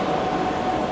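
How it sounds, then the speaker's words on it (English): A Russian children's railway train pulls away from the station, giving a steady, fairly loud rumble with a constant mechanical hum and no talking. "As this train just leaves, I decided to wait for it to leave because it's a really nice, cool train."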